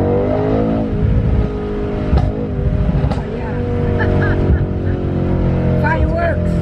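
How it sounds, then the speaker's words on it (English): A Mercedes-AMG V8 engine rumbles and revs with a deep, throaty growl, steady and close, rising in pitch a couple of times. "it's a big 8-cylinder and it has that deep grunt."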